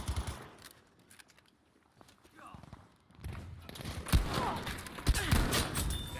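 Gunfire in the video game Battlefield 2042, with bursts of shots and sharp cracks crowding the second half, mixed with game noise and a player talking over it.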